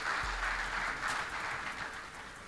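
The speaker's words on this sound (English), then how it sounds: "I thought we should give some applause to this." Audience applause at a non-oil economic summit, a dense, even patter of many hands clapping throughout, fairly faint and distant, sustained without talking.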